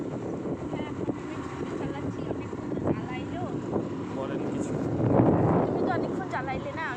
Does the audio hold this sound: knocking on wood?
no